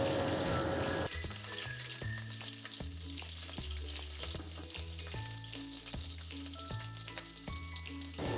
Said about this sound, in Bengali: তেল গরম হয়ে গিয়েছে, এতে আমি জিরে ফোড়ন দিলাম আর দেব কাঁচা লঙ্কা।